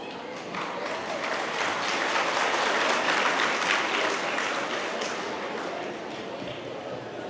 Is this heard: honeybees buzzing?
no